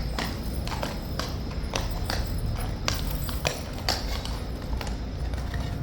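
Hooves of a horse clip-clopping on hard ground in the King's Guard yard, irregular steps ringing out moderately close over faint background murmur.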